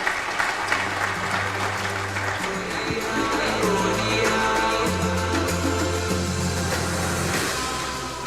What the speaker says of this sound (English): Another round of applause for both the heads of state for wonderful statements.